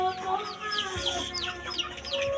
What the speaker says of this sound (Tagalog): bagong pisang manok ko mga tol